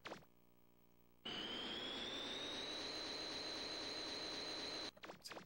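Jet skates in Mega Man Legends 2 kick in with a sudden loud whoosh, a steady rushing roar with a rising whine that holds for several seconds, then cuts off abruptly, with no talking over it.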